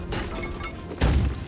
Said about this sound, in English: What was that? Some kind of fireworks.